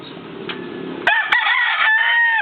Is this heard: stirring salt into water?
no